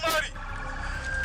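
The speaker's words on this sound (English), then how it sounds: "Do you hear them? Ambulance is coming." Ambulance siren approaching during a tense roadside police encounter, a wailing tone rising behind a burst of close voices and lingering under the noise.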